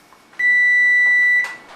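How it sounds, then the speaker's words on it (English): A kitchen timer goes off during the baking of a lemon lavender cake, giving one loud, steady high beep lasting about a second before cutting off. "our timer just went off"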